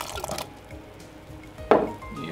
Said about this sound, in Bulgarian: Доливам и малко топла вода